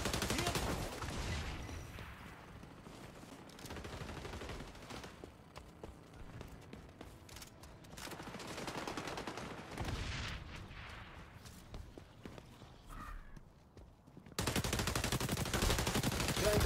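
A marksman rifle and other gunfire in the shooter game XDefiant produce a steady wash of rapid shots, with surges of louder fire and a final burst near the end.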